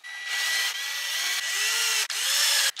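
A power drill whirs in several steady bursts, driving screws into a hinge on a homemade wooden side table, the motor pitch dropping briefly under load between short pauses, loud and close.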